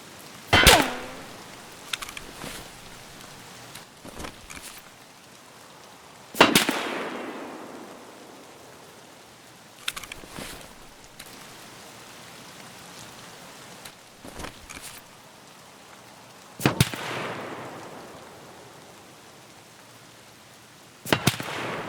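Gunshots at a shooting range heard through Peltor ComTac or Sordin electronic hearing-protection headsets, as about seven sharp, loud cracks at irregular intervals, each trailing a short decaying echo, with quiet background between shots.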